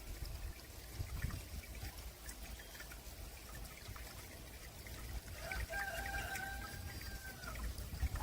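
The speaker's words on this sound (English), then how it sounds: "here's what the waterfall sounds like" A small waterfall trickles into a backyard fish pond, a soft, continuous splashing heard from close by at a low level, with a faint bird call partway through.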